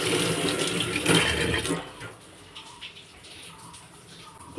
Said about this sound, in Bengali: এখন এই মাছগুলো ভালো করে ধুয়ে নিচ্ছে।